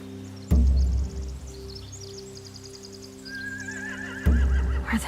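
Horses whinny and snort with heavy low thumps in The Walking Dead game, set against a steady electronic hum and faint chirping birds.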